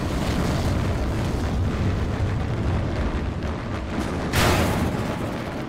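Anti-tank gun fire in the Gates of Hell war game destroys a tank: heavy, continuous roaring battle noise with a sharp, loud blast near the end, close and without talk.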